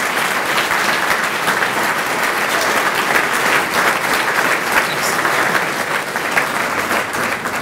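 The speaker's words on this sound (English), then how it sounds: "So give him a great round of applause." Steady, dense applause from a large audience at a downtown Weber State building dedication, a loud continuous wash of clapping sustained throughout without pause.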